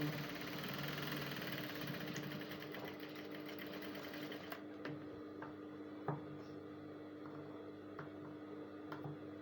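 Sewing machine stitching panels of an off-shoulder umbrella dress with puff sleeves, a steady mechanical whir for the first half before it stops, leaving quiet clicks and faint handling noises.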